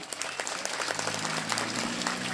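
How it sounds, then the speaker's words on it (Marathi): An audience at a Hanuman temple consecration ceremony applauds, a dense, continuous wash of many hands clapping at close range without a break. "आपण सगळे टाळ्या वाजवा"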